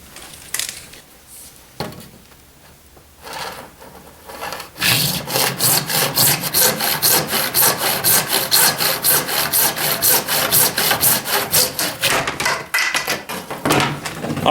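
Conduit being sawn to length for a DIY portable ice fishing shanty, a fast steady rhythm of close, loud rasping strokes that begins after a few quieter scrapes and handling sounds.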